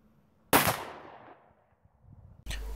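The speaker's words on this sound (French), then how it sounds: "Là je tire un coup à la Sauvestre." A single loud, close gunshot from a BRNO 502.3 12/70 and 7x65R combination gun firing a Sauvestre slug, with a sharp crack and a decaying outdoor echo, then a thump near the end.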